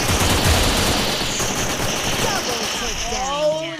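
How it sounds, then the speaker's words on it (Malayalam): Rapid gunfire in the video game Free Fire Max, dense bursts of automatic shots crackling continuously near the front, thinning toward the end while a voice talks over it. "ആരാടാ വെടി വെച്ചത്?"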